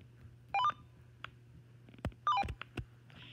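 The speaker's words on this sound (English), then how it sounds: "when you get old radios, you get sounds like this." Old Uniden BC92XLT radio scanner giving short descending chirping beep tones in two quick bursts, mixed with clicks and a low steady hum, no talking.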